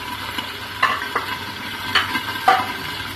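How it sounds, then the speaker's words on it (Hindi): Water bubbles and sizzles steadily in a covered pan of chicken drumsticks for a Thai-style dish, with a few soft clinks over the constant hiss. "पानी छट छट छट उबल रहा है इसका"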